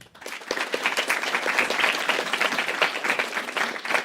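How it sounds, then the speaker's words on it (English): An audience at a live student event claps in a dense, steady burst of applause that rises quickly after a brief pause and holds at a loud, even level to the end, with no voices standing out. "One more round of applause."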